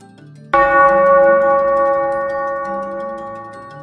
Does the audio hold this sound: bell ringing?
yes